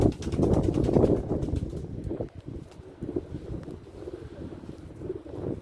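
Wind buffets a microphone outdoors where pigeons are being flown, gusty rumbling roar strongest at first then easing into uneven lower gusts.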